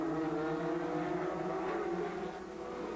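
Ferrari F355 Challenge race cars roar around the 1998 Montreal circuit, a sustained, fairly distant engine whine with shifting pitch, fading slightly toward the end.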